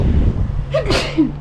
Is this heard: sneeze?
yes